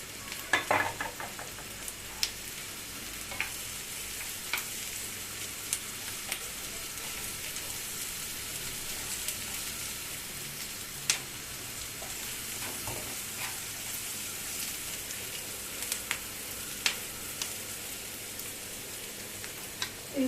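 Mashed potato filling with fried onions and spices being stirred in a pan, a steady soft frying sizzle with scattered scraping clicks of the spoon throughout.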